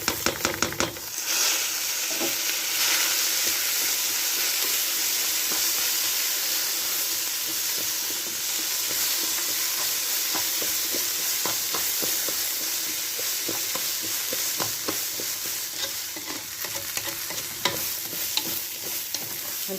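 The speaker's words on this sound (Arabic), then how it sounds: "هنشوحه كويس مع الشعريه" Rice sautéed with toasted vermicelli in a pan for Egyptian koshari gives a steady, loud sizzle with hissing steam, broken by frequent scraping stir clicks across the whole stretch, with no talking.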